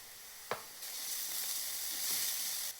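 Onions sizzle and hiss steadily in a hot frying pan, a soft close-up crackle that holds with slight swells and a brief clink near the start, with no one talking.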